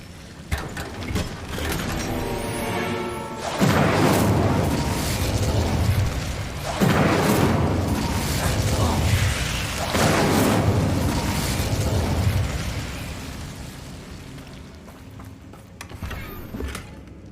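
A fiery spell erupts in the video game Hogwarts Legacy as Incendio is cast, giving a few loud whooshing bursts and booms that swell and fade over roughly ten seconds, then die down.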